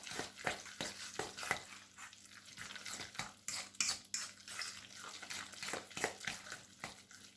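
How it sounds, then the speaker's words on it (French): A spoon stirs sauce in a pan after ketchup is added, making repeated wet scraping and clicking strokes in an uneven rhythm, close and fairly quiet, with no talking. "On mélange à nouveau."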